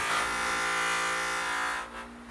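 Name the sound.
buffing wheel polishing Harley exhaust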